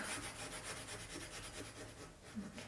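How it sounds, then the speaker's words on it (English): A crayon is scrubbed hard onto scraperboard, making a quiet, close, rhythmic scratching rub in rapid back-and-forth strokes that continue steadily without any talking. "You will have to scrub quite hard with these crayons to get a nice colour that's strong."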